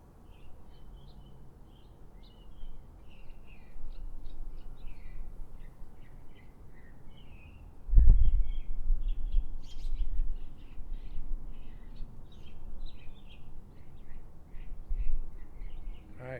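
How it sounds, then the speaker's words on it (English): Birds chirping outdoors at Nevada State Prison: scattered, fairly faint calls and tweets continue throughout over a low ambient rumble, with one sharp thud near the middle. "Shut up, birds."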